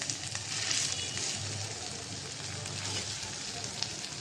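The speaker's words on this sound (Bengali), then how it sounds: "তো মাছটা একদম ভাজা ভাজা করে নিলাম" Fish frying in a pan, a dense continuous sizzle and crackle of hot oil filling the space, close and fairly loud, with a voice faintly present.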